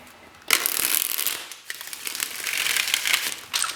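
Tarot cards riffle and flutter in quick, crisp bursts, a close papery shuffling that repeats several times with short pauses.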